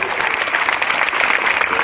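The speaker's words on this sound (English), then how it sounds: "give a big round of applause for them" An audience at a school Bharatanatyam dance workshop applauds performing students, a brief, dense and steady burst of many hands clapping.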